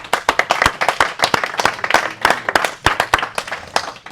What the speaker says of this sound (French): On va quand même l'applaudir.